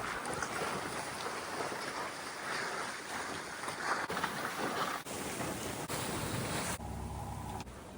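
Steady wind rushing past a sailboat on open water off the New England coast, blowing at over 20 knots, a continuous broadband roar mixed with water wash and some microphone buffeting.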